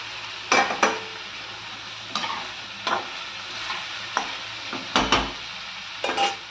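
Mushrooms sizzle in a pan with salt and vinegar, a continuous frying hiss broken by repeated spatula scrapes and clinks against the pan, close and fairly loud.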